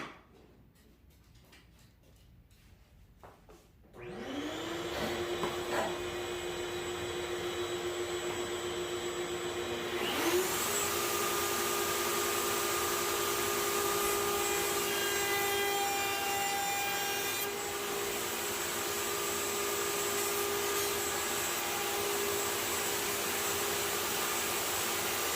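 A router trims binding along the edge of a wooden guitar neck, starting with a loud, high whine of the motor that runs steadily, with cutting noise as the bit moves over the edge.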